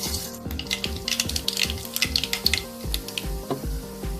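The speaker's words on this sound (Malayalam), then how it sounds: "നമ്മുടെ ചട്ടി ചൂടായി കഴിഞ്ഞു. നമുക്കതിലേക്ക്" Mustard seeds pop and sizzle in a hot pan for a coconut-free roasted gram chutney tempering, with a busy crackle of sharp close pops over a steady frying hiss.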